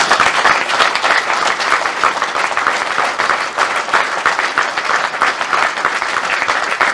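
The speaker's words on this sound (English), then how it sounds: "can we just have a round of applause for Don, please?" A full round of applause from the audience at a police unity awards presentation, dense and steady clapping from a crowd that holds at an even level for several seconds without speech.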